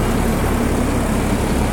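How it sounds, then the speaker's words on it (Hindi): Tractor-driven mobile rice mill mounted on a tractor trolley, geared to the tractor and husking paddy into rice, running with a steady, loud, dense mechanical roar and low engine rumble throughout. "ये मशीन जो रखी हुई है इसको राइस मिल बोलते हैं। इससे राइस निकलता है, धान से राइस निकलता है।"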